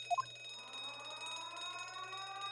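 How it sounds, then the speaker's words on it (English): A blaring ship alarm from the video game The Great Ace Attorney Chronicles opens with a couple of short beeps, then settles into a sustained, wavering electronic wail that holds at a steady level. "Oh, there appears to be an alarm."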